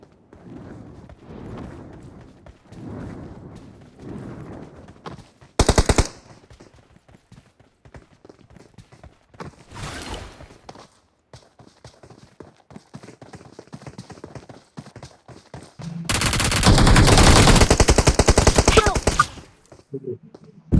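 Gunfire in the mobile battle royale game BGMI (PUBG Mobile), with a short burst of shots, another brief burst, then a longer loud sustained volley near the end, amid quieter in-game sounds and a voice talking.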